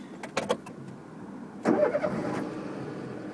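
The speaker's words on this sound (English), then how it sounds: "if you'd like to start the car for me" A car engine starts during a driving lesson: a few quick starter whirs, then the engine catches and settles into a steady close idle.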